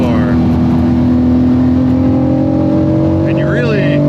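Close, steady drone of a Porsche 997.2 GT3 RS engine on the move at high elevation, holding fairly even revs with a slight rise, while a voice talks over it.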